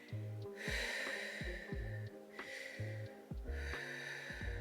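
Slow, deliberate pelvic floor connection breaths, three long airy exhales with short inhales between, close and quiet over a low rhythmic background hum.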